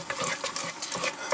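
A spoon scrapes and stirs through ingredients mixed with tomato paste inside a Sinbo electric cooker pot, giving soft, wet, irregular scraping and clinking sounds close up.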